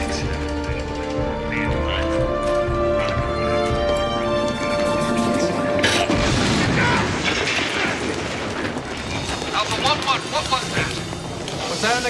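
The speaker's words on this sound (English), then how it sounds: "A single blast from above." An explosion in the 1999 tactical shooter Hard Time: Hostage Hotel, set in a hotel rescue mission, lands as a single loud boom about midway, surrounded by dense game noise, music and radio chatter.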